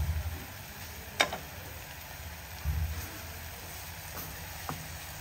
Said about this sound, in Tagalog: luto na ang ating ampalayang, ginisang ampalaya